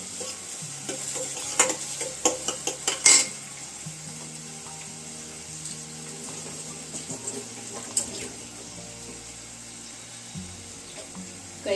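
Garlic sizzles softly in a pan while being stirred for bhurji, with a few scraping, clattering stirs near the start and a quiet steady frying hiss under a low hum.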